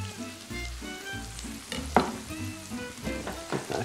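Creamed garlic sizzles in a pan with peppers and onions, a soft, steady frying hiss broken by stirring scrapes and small crackles, fairly quiet and with no talking.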